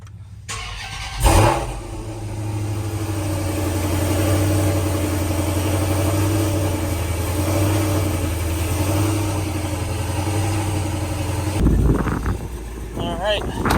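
A car engine runs steadily at a low idle for several seconds while the car is driven off a trailer, with a brief louder rev near the start and some clunking at the end.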